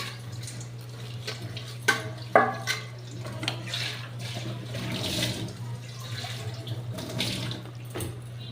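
Water from a rinsed bowl being poured into a pan of ground green chilli, dried chilli and tomato spice paste for a cauliflower curry, heard as running, splashing water with a few sharp knocks, alone and fairly close.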